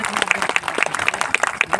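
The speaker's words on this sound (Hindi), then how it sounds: "एक बार जोरदार तालियों से सर का स्वागत हो।" Applause from a seated crowd welcoming a speaker at a Buddhist-Ambedkarite gathering, a steady patter of claps with a few sharper hand strikes standing out, loud and close throughout.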